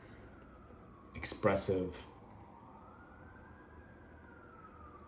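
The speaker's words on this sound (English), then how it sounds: "Sirens going off." Emergency sirens going off outside, heard indoors as a faint, distant, slowly rising wail. A brief word of speech comes first, and the siren then carries on alone.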